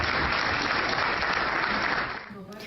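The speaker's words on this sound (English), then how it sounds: "You can also hear the crowd laugh and applaud." A crowd at a public gathering applauds, dense sustained clapping heard from a replayed recording, fading out near the end.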